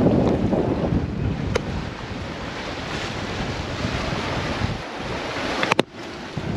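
Ocean waves surge and hiss steadily under a strong 25-knot wind roaring across the microphone aboard a wind-vane-steered sailboat on an open-sea passage to American Samoa, with a sharp knock near the end.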